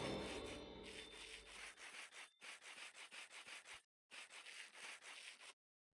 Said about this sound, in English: sandpaper goes in the offhand. And they go rubby, rubby, rubby.